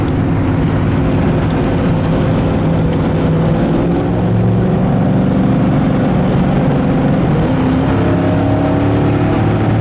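A 1970 Chevrolet El Camino SS restomod cruises down the road at about 50 mph and 2,300 RPM, its engine a steady, loud, unbroken drone with road noise and no voices.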